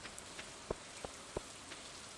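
Rain falling on a beach in Stardew Valley, a soft steady hiss broken by a few sharp raindrop ticks, quiet and with no voices.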